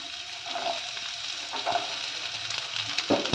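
Chopped onions sizzle in hot oil for egg fried rice, a steady soft frying hiss with occasional light clicks of stirring, close and moderately quiet.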